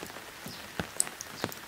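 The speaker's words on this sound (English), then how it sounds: "It's still raining. It's going to rain all night." Steady rain falls in a quiet outdoor setting at night, with soft hiss and scattered nearby drops tapping on a surface.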